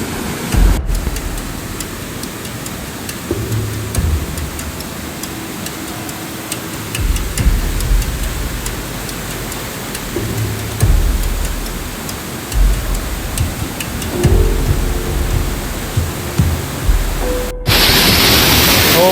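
Strong rushing current of water at a waterfall, a steady broadband roar with thumps and splashes up close, as people wade across the flow.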